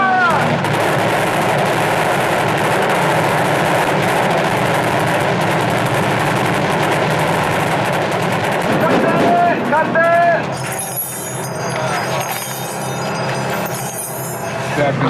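Blank-round gunfire from a large military battle scene on a Transformers film set with about 200 troops and stunt people, loud dense bursts and rattling volleys filling the air, fading into scattered shots as voices call out.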